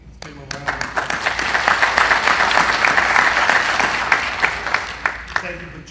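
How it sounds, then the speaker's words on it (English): Audience at a State of the City event gives a round of applause, dense and sustained clapping with some sharper individual claps, and voices mixed underneath. "Let's give them a round of applause."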